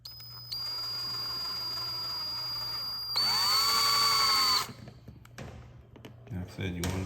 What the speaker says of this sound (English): you want to drill it slow too